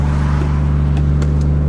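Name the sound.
Nissan 240SX S14 with RB25 engine idling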